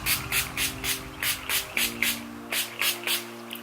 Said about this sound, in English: So I'm just going to spray it in my hair.